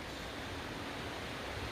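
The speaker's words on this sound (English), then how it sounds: "it's very windy tonight" Strong wind blows at an Appalachian Trail shelter by the Ten Mile River in Connecticut, a dense, constant rushing roar with no gusting breaks or voices.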